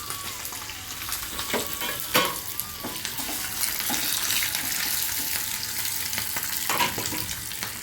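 Fenugreek seeds fry in hot oil in a pan for sambar, giving a steady loud sizzle with light stirring scrapes and a few clinks, close up and with no talking.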